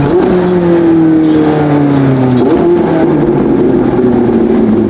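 A Lamborghini Aventador SVJ's Gintani F1 exhaust with flame tune rumbles loudly and steadily, the engine pitch falling as it decelerates, with crackling burbles and a sharp pop midway.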